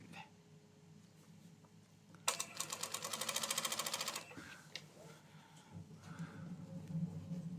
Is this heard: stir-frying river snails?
no